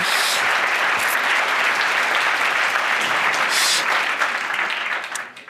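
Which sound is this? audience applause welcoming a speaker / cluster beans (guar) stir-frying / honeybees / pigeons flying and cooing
audience applause welcoming a speaker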